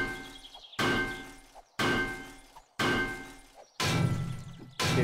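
Structure breaking apart in 7 Days to Die, five hard crashing impacts about a second apart, each a loud shattering smash that decays quickly, with rubble debris and a heavier final collapse.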